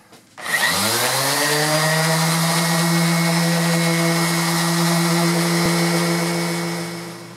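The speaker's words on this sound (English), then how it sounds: "So I'm just going to be sanding a while." A loud, steady power sander whine drones continuously for several seconds while sanding wood, starting abruptly and holding a constant pitch before tapering off at the end.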